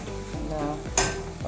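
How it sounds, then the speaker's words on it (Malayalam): Tomatoes fry in hot oil for an egg roast with a steady close sizzle, while a spoon scrapes and stirs the pan in a few quick strokes. "ഇപ്പോൾ ഈ തക്കാളി ഒന്ന് വെന്തോട്ടെ. ഇപ്പോൾ നല്ല നെയ്യെല്ലാം തെളിഞ്ഞ്"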